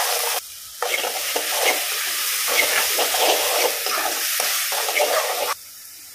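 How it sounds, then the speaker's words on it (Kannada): Spiced masala for a breakfast dish frying in a pan over a high flame, a steady loud sizzle with stirring scrapes throughout, briefly dropping at the start and end. "ಹೈ ಫ್ಲೇಮಲ್ಲಿಟ್ಟು ಫ್ರೈ ಮಾಡ್ತಾ ಇದ್ದೇನೆ."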